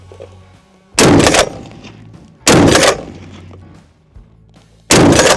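A bullpup CQB .50 caliber rifle fires three times, each a loud, sharp blast with a heavy booming tail, spaced roughly one and a half to two and a half seconds apart, outdoors with low background hum.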